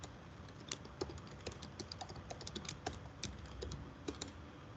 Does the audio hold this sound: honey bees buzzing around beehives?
no